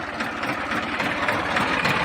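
A New Holland 4010 tractor with a 42-horsepower Simpson engine runs at a steady idle, a close, throbbing low diesel chug with a rhythmic pulse.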